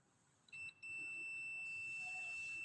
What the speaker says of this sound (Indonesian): apabila buzzer berbunyi, berarti multimeter kita berada dalam keadaan baik